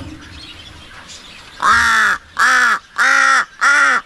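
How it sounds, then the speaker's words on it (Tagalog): A pet crow caws loudly and close by, four harsh calls in a steady, evenly spaced rhythm with short gaps between them. "Ang ingay nating alagang wak, oh."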